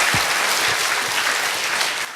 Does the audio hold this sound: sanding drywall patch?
no